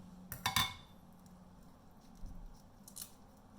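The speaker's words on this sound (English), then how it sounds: "come up with the scissors into the shell on the top," Kitchen scissors snip through a raw prawn's shell along the top toward the tail, giving a quick cluster of crisp, close cutting crunches followed by quieter handling sounds.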